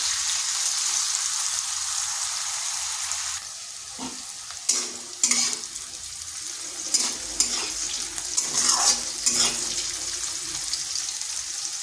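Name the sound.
bitter gourd frying on high heat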